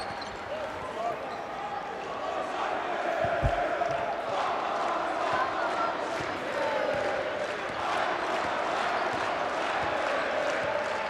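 A basketball arena crowd of Tofas Bursa fans cheering and chanting during a Champions League game against AEK, a steady distant roar with a single ball bounce thudding early on.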